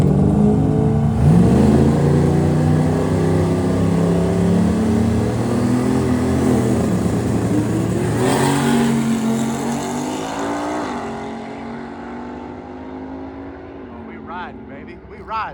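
A diesel drag truck at a drag strip, its engine roaring loud and close with rising and falling revving harmonics that slowly fade away, with voices speaking over it.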